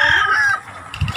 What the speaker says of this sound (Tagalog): Ang manok dito.